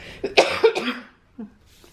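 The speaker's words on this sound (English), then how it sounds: "Hold on, I got a cough." A person coughs a few times in a quick close-up burst, followed by a smaller cough after a brief pause.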